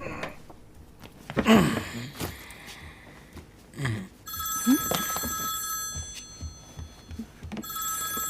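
After some scuffling and a short voice-like sound, a telephone rings loudly in two long trilling bursts nearby.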